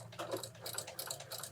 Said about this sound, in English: now just sew straight across your lines you made